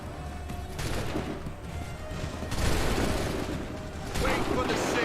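Musket volleys in Assassin's Creed III roll out as dense, rumbling bursts of gunfire, roughly three distinct swells over a continuous battle din, with voices mixed in.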